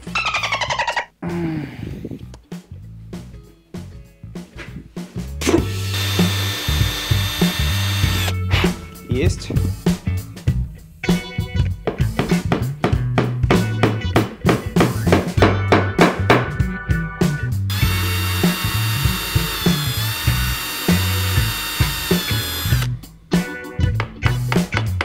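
A power drill bores a series of small holes in a wooden organizer, its motor whining in repeated bursts with short pauses between, close and loud, while someone talks in between.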